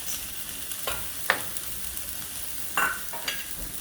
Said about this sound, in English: And we're going to add in the onions. Okay, spread it out.